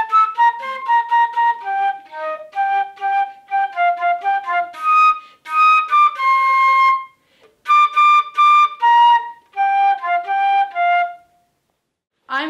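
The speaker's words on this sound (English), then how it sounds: "I play the flute" A flute played solo in a school music class, bright clear melodic phrases with short gaps between them, close and distinct with no voices.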